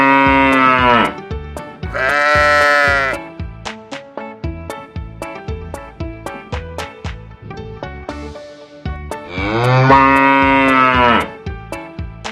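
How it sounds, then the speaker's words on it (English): A farm animal toy plays recorded cow moos, three long drawn-out lowing calls set over a bouncy repeating tune, loud and close. "Cow."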